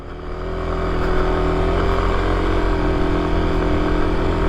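A 2024 Kawasaki KLX300 dual-sport motorcycle held at full throttle in second gear gives a steady, loud, close engine drone that barely changes pitch over a few seconds, with no talking.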